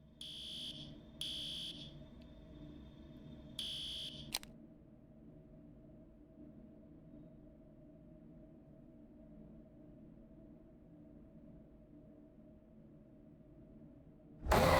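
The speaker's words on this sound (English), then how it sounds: "Is that the fire alarm?" A fire alarm in a video game sounds three short, shrill electronic tone bursts in the first few seconds, then falls silent, leaving a low background hum with no voices.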